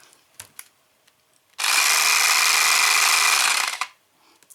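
A TKTK mini electric rechargeable food chopper runs for about two seconds as a steady, bright motor whir with a clear start and stop, preceded by a few small clicks.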